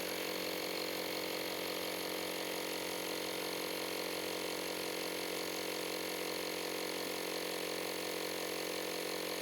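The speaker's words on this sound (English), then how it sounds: "Turn it on. And it's going to climb until it hits your desired PSI. and then automatically shut off." A small Lexin smart pump inflates a motorcycle tire with a steady, even electric whir and whine, faint and unbroken, with no pauses.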